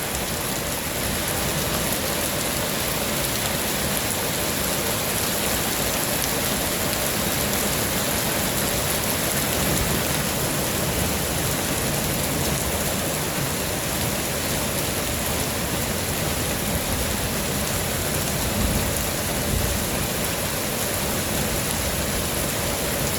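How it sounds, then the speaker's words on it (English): Heavy night rain pours down in Phoenix, a dense, constant roar of drops on surfaces that stays loud and unbroken throughout with no voices. "the rain is here"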